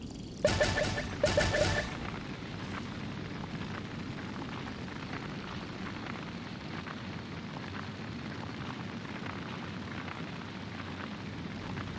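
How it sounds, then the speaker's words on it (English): Two loud, sharp explosions in quick succession in the Genshin Impact game, followed by a long rumbling, roaring aftermath that slowly settles into steady low noise. "Explosion inside city wall."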